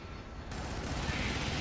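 Turret gunfire in Helldivers, a dense stream of rapid shots that starts abruptly after a brief quiet moment and keeps going at steady loudness, with no talking.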